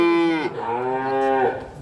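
A Holstein Friesian dairy cow gives one loud, close, drawn-out moo lasting most of two seconds, with a slight break partway through.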